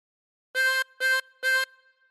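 Three evenly spaced blown notes on hole 7 of a harmonica, each short and bright with a brief ringing decay between, played alone.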